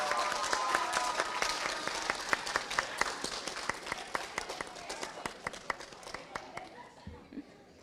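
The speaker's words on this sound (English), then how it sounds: "Let's give Team Rubens and all of our teams one more round of applause." A graduation-ceremony audience gives a round of applause for trainees: sustained, fairly close clapping with a brisk rhythmic pulse that fades out near the end.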